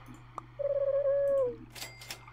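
A pigeon in the Super Auto Pets video game gives a single cartoon coo, a smooth held note that dips at the end. It sounds clear and close over a quiet background hum, with no talking.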